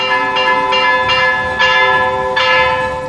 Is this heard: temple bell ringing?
yes